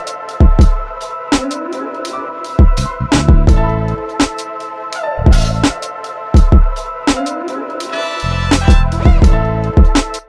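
A boom bap hip-hop beat built from a sampled loop, with heavy booming kicks, sharp snare hits and sustained melodic sample layers cycling in a steady groove, loud and up front.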